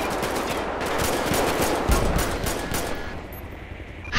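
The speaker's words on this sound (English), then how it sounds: "Shots fired!" Rapid bursts of automatic gunfire in GTA V with the LSPDFR police mod, a dense, loud volley of overlapping shots with a sharp crack near the middle, alone without talk.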